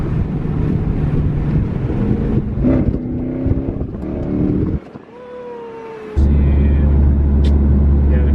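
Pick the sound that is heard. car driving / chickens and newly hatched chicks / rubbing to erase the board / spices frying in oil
car driving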